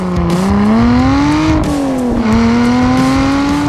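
A Lotus car laps a race track, its engine droning loud and steady with rising and falling revs through the gears, heard close from onboard.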